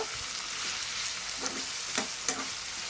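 Potatoes fry in hot oil with a constant dense sizzle close by, marked by a few light stirring taps, with no talking.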